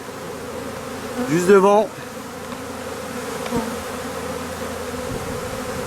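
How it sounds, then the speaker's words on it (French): A clustered swarm of honey bees drones in a steady, continuous hum, with a brief louder rising sweep near the start, a short tap, and a few spoken words. "On peut voir le paquet d'abeilles"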